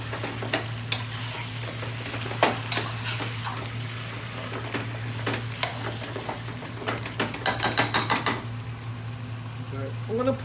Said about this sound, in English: I feel the onions caramelizing and sticking to the bottom a bit